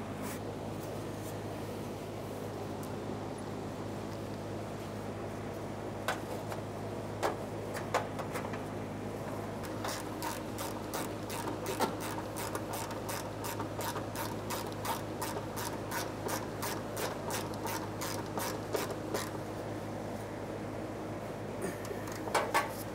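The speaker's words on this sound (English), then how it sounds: "Now we can resecure our emergency brake cable. We'll be using our 12mm on that mounting bolt." A 12mm ratchet tightens the emergency brake cable mounting bolt under a 1994-1997 Honda Accord, with scattered clicks at first, then a long run of rapid, regular pawl clicks, close and clear over a steady background hum.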